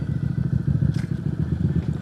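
QJ Motor SRV 250 AMT automatic cruiser motorcycle with a 16-inch front and 15-inch rear wheel, turning around on the road. Its engine gives a steady, close, low rumble that runs throughout, with light clatter and no talk.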